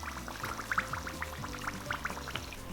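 Hot frying oil draining and sizzling off fried beef empanadas lifted from the pot, a bubbling crackle with small drips and pops, close and moderately quiet.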